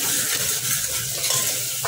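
Spices and chillies stirred in a hot frying pan, giving a continuous soft sizzle with light scraping as a spoon moves through them, close by and with no talking.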